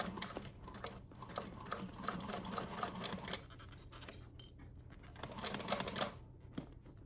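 Sewing machine backstitching a bag strap produces a faint rapid mechanical chatter in uneven runs, stopping and restarting, with a low steady hum underneath.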